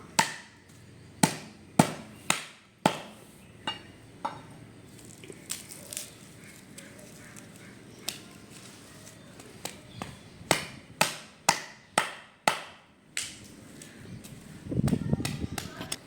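Coconut husk being cut into small pieces: about fifteen sharp, close chopping snaps come in uneven bursts, each with a quick fade, and a short rustling shuffle follows at the end.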